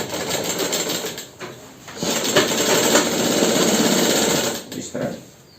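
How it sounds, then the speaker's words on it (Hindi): Sewing machine stitching the gusset of underwear, a fast steady mechanical whirr running in bursts with brief pauses, close and fairly loud. "अब हम दूसरी साइड भी इसी तरह सिलाई लगाएंगे।"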